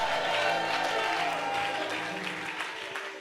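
A church congregation applauds continuously, with dense clapping and some cheering and voices mixed in, filling the room and tapering slightly toward the end.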